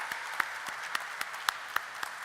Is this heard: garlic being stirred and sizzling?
no